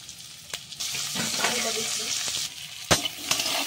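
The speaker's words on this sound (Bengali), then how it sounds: "টমেটোটা আমি দিয়ে নিয়েছি, এই পেঁয়াজের সঙ্গে সুন্দর করে ভেজে নেব" Onion and tomato fry in a pan, a steady sizzle broken by a few sharp clinks of stirring, close and moderately quiet, with no voices.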